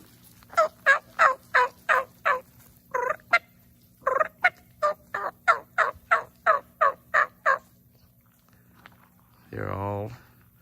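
Farm birds, likely turkeys, call in the morning, a rapid run of loud gobbling bursts in quick rhythmic succession, then a pause and a final wavering call, close by and with no talking over them.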